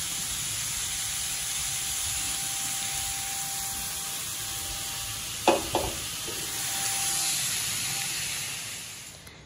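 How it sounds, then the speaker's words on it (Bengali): Radish greens fry in a pan with a steady hissing sizzle, broken midway by a couple of sharp utensil knocks, then the hiss swells briefly before easing off; no one speaks. "মূলো শাক ভাজা হচ্ছে।"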